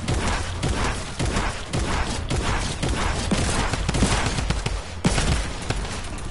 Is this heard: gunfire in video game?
yes